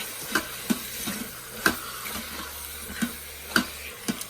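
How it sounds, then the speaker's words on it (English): Braised pork with eggs stirred in a pot, a soft simmering sizzle with several sharp spoon clinks against the pot at irregular intervals, close and fairly quiet over a low background hum. "So I'm going to stir."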